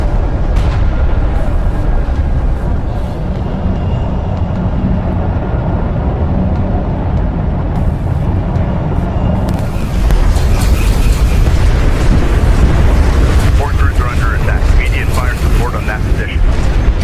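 Loud, rumbling space explosion of a destroyed artillery cruiser in the real-time strategy game Homeworld: Deserts of Kharak, a dense roar that swells into crackling debris bursts over continuous battle noise.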